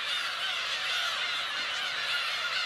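A dense colony of black-tailed gulls on Gujido island, thousands of birds calling at once into a continuous, loud wall of overlapping harsh cries with no gaps and no voices.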